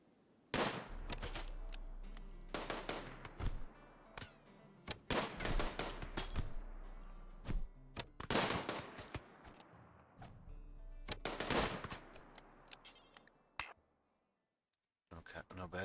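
Gunfire in the video game RimWorld: scattered bursts of sharp shots and clicks between pauses, moderately loud, with a person talking over parts of it and a brief quiet gap near the end.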